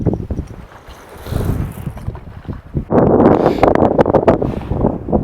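Wind gusting across a lake during catfishing from a boat, a steady broadband rush that swells louder and rougher in the second half with buffeting against the microphone.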